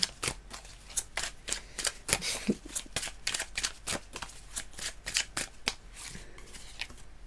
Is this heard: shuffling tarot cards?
yes